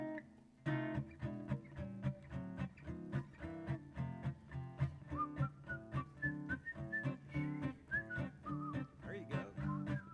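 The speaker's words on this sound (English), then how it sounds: "Y'all help me whistle on it," Concert audience whistling the Harlem Globetrotters tune together at a craft-days evening show, a steady rhythmic melody carried by many whistlers over a low accompaniment throughout, fairly faint and without talking.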